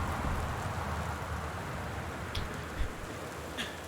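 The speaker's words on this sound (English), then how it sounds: "It's dark, it's rainy and stormy." Rain and a storm in the video game Gone Home, heard as a soft, steady wash of rainfall at low volume, with a couple of faint taps on top.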